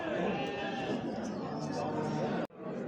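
A flock of sheep and lambs bleating together in a dense, continuous chorus close by at a livestock market in Göksun, Kahramanmaraş, Turkey, with overlapping calls and a brief drop near the end.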